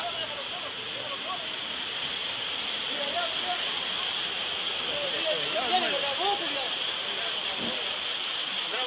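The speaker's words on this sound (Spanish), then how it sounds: "Ahora se está recogiendo el mar después de la ola que se vino" Seawater rushing and hissing as it draws back after a wave, a loud continuous wash of water with wind noise, and a voice speaking over it.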